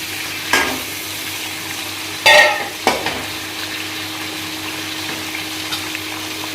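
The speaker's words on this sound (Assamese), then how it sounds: "তেলটো ফুটিছে, মাংসটো অলপ পানী থাকিলে নেকি" Meat frying in bubbling hot oil with turmeric, salt and spices, a steady close sizzle broken by a few sharp stirring scrapes of the spoon in the pan.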